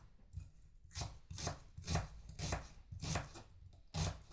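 Onion being chopped on a board at home, a run of about eight firm knife thuds at an even, unhurried pace, close and distinct.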